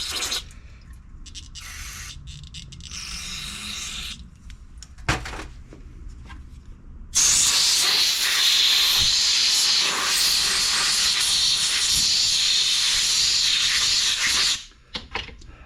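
Carburetor cleaner sprays from an aerosol can into the carburetor of a Centurion 3250 watt generator, a few short hisses and then a long, loud, continuous spray blast that stops abruptly.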